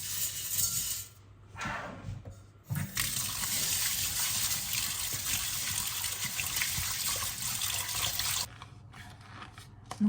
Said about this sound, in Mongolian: Будаага угаагаад